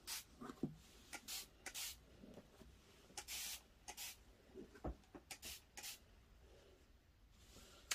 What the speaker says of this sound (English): When we spray it with water